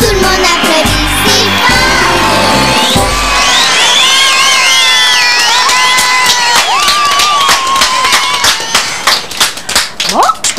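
A circus crowd under the big top cheers and claps loudly as children shout, with rhythmic clapping building over music-like tones and excited voices before tapering into scattered claps.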